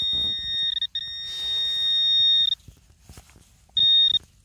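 A metal detector pinpointer searching a potato field gives loud, steady high-pitched electronic tones in several bursts separated by gaps, with faint handling noise between them.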